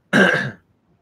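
One short, harsh cough, close and loud, followed by silence.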